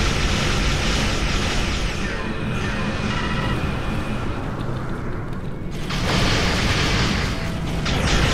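Starship cannons firing in Star Trek Online space combat, a dense, continuous roar of bursts and booms with only a brief dip in intensity midway.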